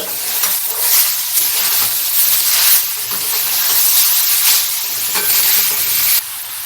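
A radish kachori filling with turmeric fries and sizzles in a pan on lowered heat while a spoon stirs it, giving a loud, continuous hiss with rhythmic scraping strokes.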